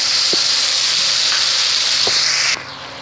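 Mustard, green chili and ginger paste with turmeric, salt and cumin hits a hot pan, giving a loud, steady frying sizzle with a couple of faint clinks before it drops off sharply near the end.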